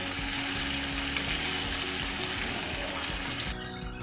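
Green beans and chicken sizzle steadily in a yogurt sauce as the liquid cooks off, a continuous close frying hiss with faint stirring, easing slightly near the end.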